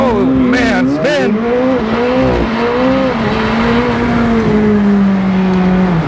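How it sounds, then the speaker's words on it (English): McLaren 765LT Spider launched at full throttle with launch control, a loud engine roar rising with a brief tire squeal from wheel spin, then a sustained strong drone, heard from inside the car with voices over it. "Little launch control is enabled, full throttle, here we go. Oh man, spin!"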